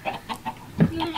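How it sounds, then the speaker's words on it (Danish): Chickens in a survival video game give a quick run of repeated clucks, close and clear, with light rhythmic pulses. "Hey, der er en kylling, der er der og der."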